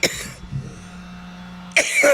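A man coughs, a sharp close burst at the start and a heavier double cough at the end, with a quiet stretch between.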